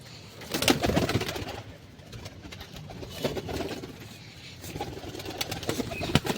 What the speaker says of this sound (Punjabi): ਚਲੋ ਵੀ ਮਿੱਤਰੋ ਕੱਢਤੇ ਸਾਰੇ ਕਬੂਤਰ